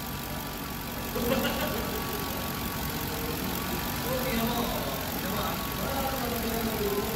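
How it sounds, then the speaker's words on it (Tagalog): A worn Ford Crown Victoria with a failing valve seal idles steadily at close range, a low continuous engine rumble running through the whole stretch with faint voices mixed in. "Ganda na talaga ang andar ng D8 na Crown Victoria oh."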